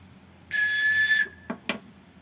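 A handmade replica of an archaeological prehispanic bird-sound whistle, blown once in a shrill, steady tone lasting under a second, then two quick sharp chirps. The sound is clear and close, with no voices.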